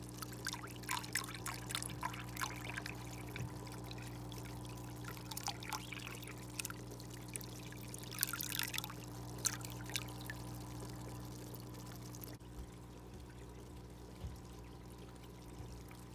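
Cycled filter media and water poured from a small jug into a new aquarium, a faint splashing trickle in soft bursts over a steady low electrical hum, quiet and close, without speech.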